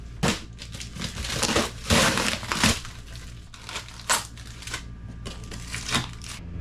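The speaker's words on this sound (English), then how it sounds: "So I'm going to cut all this tape off and get my homemade box out of the way." Rough crinkling and scraping with a few sharp snaps as tape is cut and peeled off an RV air conditioner box, close up, in uneven bursts over several seconds, with no talking.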